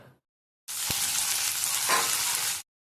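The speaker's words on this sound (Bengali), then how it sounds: "গরম করে তারপর দিয়ে দিতে হবে বরবটি" Green long beans hit hot oil in a pan while spiced with ginger and cumin, bursting into a loud, close sizzle that holds steady for about two seconds and then cuts off, with no talk.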